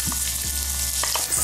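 Chopped onion hitting hot oil with spices such as cumin seeds, a loud continuous sizzle and crackle with a few stirring scrapes, close up and without voices.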